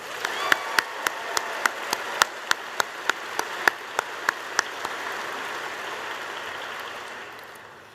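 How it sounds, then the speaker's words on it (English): Applause from Air Force personnel at an evening event with the President and First Lady, a steady wash of clapping with sharp individual claps standing out, dying away toward the end. "Let's give her another round of applause."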